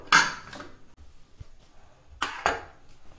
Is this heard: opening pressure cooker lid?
yes